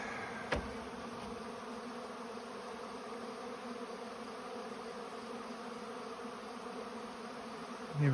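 A steady, continuous drone of many honey bees buzzing close by during heavy robbing in a nectar dearth, layered hum with no voices.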